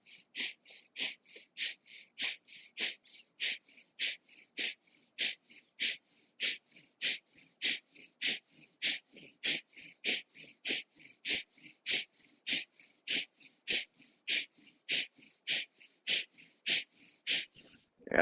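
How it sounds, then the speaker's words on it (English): Forceful kapalabhati yogic breathing: about thirty-six sharp, rhythmic nasal exhalations in a steady, even series, close and loud, with no talking. "And now do 36 kapalabhati breaths."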